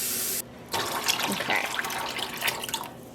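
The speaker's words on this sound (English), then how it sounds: "So I just added 16 cups of water." Water poured into a yarn dye pot runs as a steady splashing stream for nearly three seconds, close and fairly quiet, after a short burst of noise at the start; a voice says one brief word.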